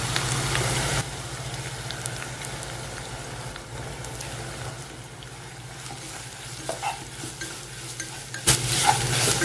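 Grated coconut fries in oil for a Kannur-style kootu curry, giving a steady, close sizzle with scraping stirs against the pan. The sound is loudest at the start and again near the end, with no talking.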